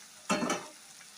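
Tomato pieces drop into a pan of eggplant curry, setting off one brief, close burst of sizzling frying that fades within half a second.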